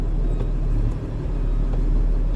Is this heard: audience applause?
no